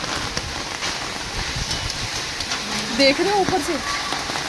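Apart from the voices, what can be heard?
hail falling on a balcony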